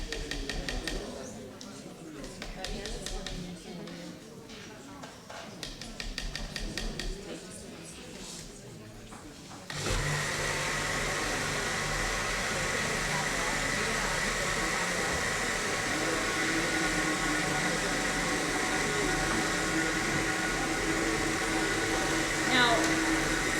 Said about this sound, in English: in these recipes, when you put your food yeast in, it thickens your recipe up, and again, it's hard to run the blender